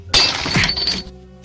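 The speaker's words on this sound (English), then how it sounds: "The bust crashed through the window" A heavy bust smashes through a glass window in one sharp, loud shatter, followed by about a second of bright tinkling glass debris that then stops abruptly.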